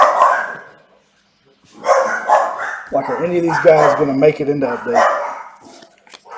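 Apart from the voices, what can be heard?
dogs barking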